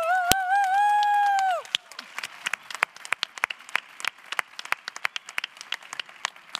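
A panel audience at a sustainability event applauds in a burst of dense clapping after a loud held tone, the claps thinning into scattered, uneven hand claps that continue close and steady.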